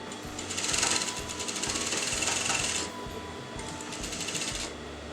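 A sewing machine stitches fabric around a curve in a close, rapid mechanical whir. It runs in two bursts, a longer one and then a shorter one after a brief pause, and no one speaks.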